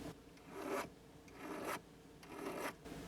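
A sterling silver spoon ring has its sharp cut edge filed, giving three steady rasping strokes, each building in loudness and then stopping, close-up and alone with no talk.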